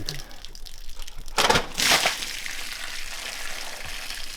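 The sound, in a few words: running water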